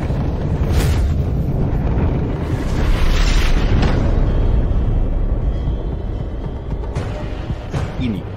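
Deep rumbling from a shaking sky god statue, a loud continuous low roar with booming surges that swell around the middle and ease toward the end, with no talking.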